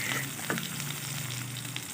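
Onions sizzle and fry steadily in hot oil for a village-style paneer masala, a continuous close crackle with brief stirring scrapes.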